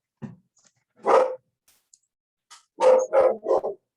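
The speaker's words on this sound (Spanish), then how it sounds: "van a escuchar un poquito más de ladridos ahora" Dog barking nearby in a classroom lecture setting, several loud barks in a row, with an early bark, a longer one, then a quick cluster of three near the end, no talk over them.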